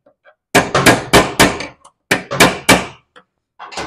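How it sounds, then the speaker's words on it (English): Sharp metallic hammer blows on a punch driving a tapered roller bearing out of a 1989 Craftsman all-wheel-steer lawn tractor, two quick bursts of four to five close, loud strikes with brief pauses between. "Just gonna pop this one out with a punch on."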